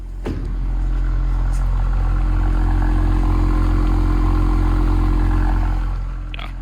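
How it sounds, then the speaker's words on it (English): An Audi RS5 Avant rated at 640 hp rumbles steadily nearby, its deep exhaust drone holding a constant idle-like tone for several seconds with a brief clatter at the start. "listen to that exhaust sound here"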